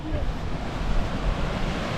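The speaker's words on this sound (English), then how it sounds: "that big waterfall's coming up the wide one" A big wide waterfall on a frozen river in the Carneddau hills, heard as a steady broadband roar of rushing water with wind buffeting the microphone, continuous and moderately loud.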